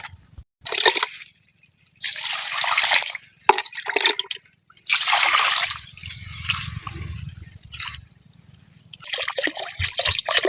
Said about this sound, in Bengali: চাল ডাল একসঙ্গে ভালো করে ধুয়ে নেব